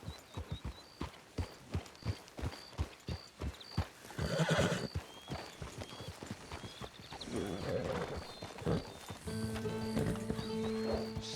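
Hoofbeats of a ridden horse in Red Dead Online on Xbox Series S drum in a fast, even rhythm up close, broken by a loud neigh midway. Later someone speaks over softer movement and a musical tone.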